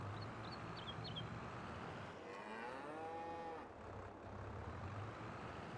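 A single long, drawn-out cow moo in the farming game Landwirtschafts-Simulator 22, fairly faint and sitting under a steady low rumble of machinery and ambience.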